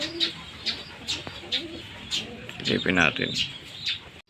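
Racing pigeons at a loft in Candelaria, Quezon, cooing in repeated soft throaty bursts and brief chirps at close range, with someone talking partway through.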